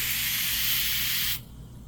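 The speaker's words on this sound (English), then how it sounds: "then I'm going to spray right into my cup" Spray starch hisses out of an aerosol can into a cup in one steady, close, loud burst lasting over a second, then cuts off sharply.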